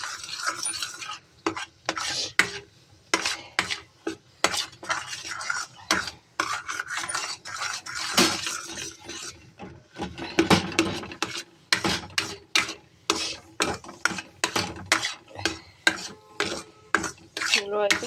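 A spoon scrapes and stirs a thick milk powder barfi mixture in a pan, with repeated rasping strokes in an uneven rhythm, close and clear with no talking.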